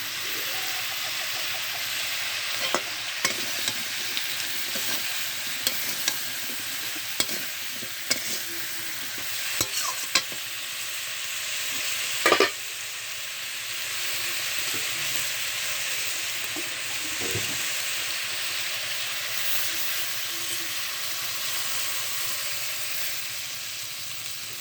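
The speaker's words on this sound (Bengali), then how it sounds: "শালগম, আলু, পালং শাকের ডাঁটা দিয়ে মৃগেল মাছ রান্না করছি" Mrigal fish cooking with turnip, potato and spinach stems sizzles in a pan with a steady, loud hiss, broken by occasional sharp clinks and scrapes of a spatula, and no voices.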